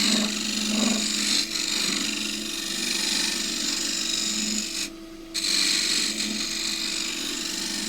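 A woodturning tool cuts wood on a lathe while turning a pagoda box, producing a continuous close scraping, rasping hiss with a brief dip partway through, and no voices.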